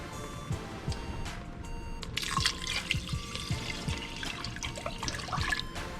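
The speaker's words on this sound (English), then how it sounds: "Then we're going to add our 6 cups of our beef broth." Beef broth pours into a pot of French onion soup, a continuous close splashing and gurgling of liquid with scattered drips, moderately loud and steady for several seconds.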